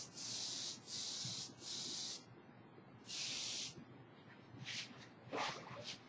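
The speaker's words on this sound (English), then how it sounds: "So I'm going to see how well this sprays over here on the wall." Paint spray gun spraying latex paint stripes onto a wall, several close bursts of steady hissing spray about a second each separated by brief pauses, followed by quieter shorter hisses and faint handling noise, with no talking.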